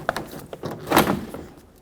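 A plastic interior door panel comes off a 1995-2004 Toyota Tacoma door, a short run of clicks and snaps building to one louder pop, then a few lighter rustles and taps, up close.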